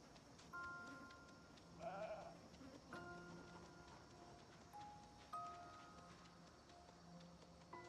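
Sheep in the video game Project Zomboid bleat several times at moderate volume, with short wavering cries spread over the clip above a low ambient game hum and soft background sounds.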